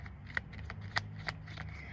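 Tarot cards shuffled by hand, a soft run of riffling flicks and slaps with a few sharper snaps, close and fairly quiet with no talking.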